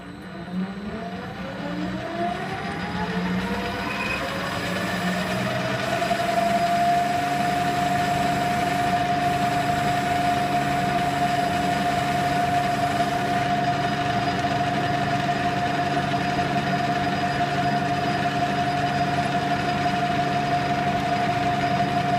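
A metal lathe cuts a taper on a roto tiller driveshaft, its motor spinning up into a steady, loud mechanical drone with a sustained whining tone as the heavier cut carries on without talk.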